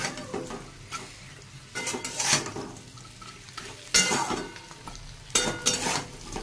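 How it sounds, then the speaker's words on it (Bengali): Mola fish frying dry in a pan with onion, green chili and garlic, heard as scraping stir strokes and clinking utensil hits over a soft sizzle in irregular bursts. "এমনি শুকনো শুকনো এটা করবো, শুকনো শুকনো করেই ভাজবো"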